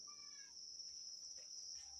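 Crickets in a breeding cage give a steady, high, continuous chirping drone, faint and unbroken throughout with a few brief higher trills at the start.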